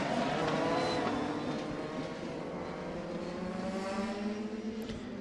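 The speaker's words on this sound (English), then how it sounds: "He's going to bring that car around to make a pit stop." A Champ Car open-wheel racer at Road America in 2006 circulates the track toward a pit stop, its engine droning steadily and loudly throughout with a sustained high-revving tone and no speech over it.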